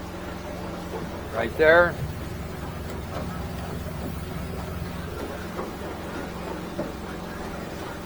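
A 2023 Hewescraft 250 Alaskan hardtop boat runs on one trimmed-down motor during a water test, giving a steady low engine drone and water rush under close conversation, with a brief sharper rise near the start.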